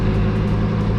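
A Lamborghini STO engine cruising quietly in wet performance mode gives a steady low, smooth drone with no revving swells, close and constant throughout.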